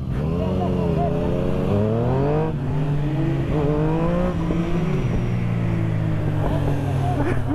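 Two Yamaha motorcycles ride together, engines revving up and down through rising and falling pitch sweeps, loud and close throughout with voices talking over them.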